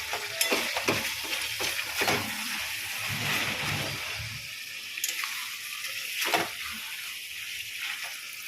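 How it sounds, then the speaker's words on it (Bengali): Pieces of meat cooking with elephant foot yam sizzle and spatter in a pan while being stirred, with scraping strokes and bursts of frying noise that ease off toward the end, no talking. "এবার নাড়বো মাংসটা।"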